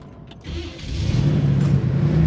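A brand-new van that keeps randomly dying, its engine catching after a brief quiet start and settling into a rising, steady low idle rumble heard close up.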